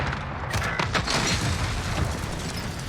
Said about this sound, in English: I decided to toss 2 grenades in the windows to get him to come out